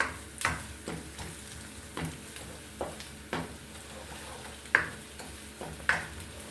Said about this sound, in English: Let me stir for like 30 seconds so that the flavors may infuse.